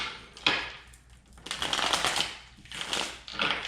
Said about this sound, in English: I just want you guys to see me shuffling on camera